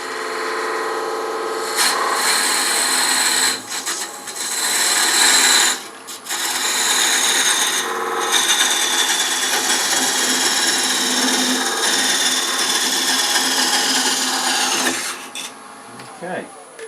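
Wood lathe parting off a turned wooden cup for custom Grado headphones, a loud sustained scraping cut with several short pauses between passes, then a drop as the tool lifts away.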